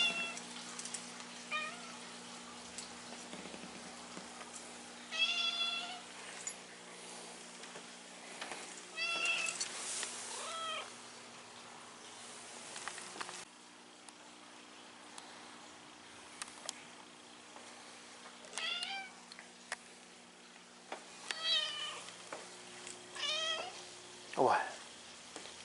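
A cat meows repeatedly in drawn-out, wavering calls, spaced apart, with a person talking quietly in between.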